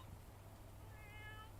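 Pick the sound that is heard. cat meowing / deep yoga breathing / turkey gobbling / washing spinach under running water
cat meowing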